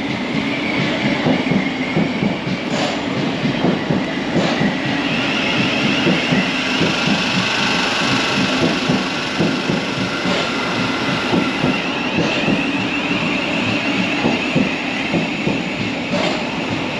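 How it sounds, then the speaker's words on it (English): A Thameslink Class 700 train rolls through Blackfriars station with a steady rumble and rhythmic clickety-clack of wheels over rail joints, fairly close and continuous, with a faint high whine above. "These are the only trains on the Thameslink network, the Class 700"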